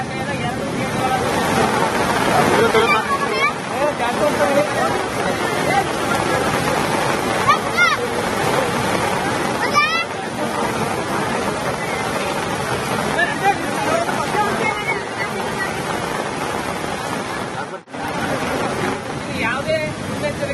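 Floodwater roars continuously from two opened gates of Chandrapalli dam after heavy rain in Kalaburagi, a loud, broadband rush with brief splashes and faint voices nearby.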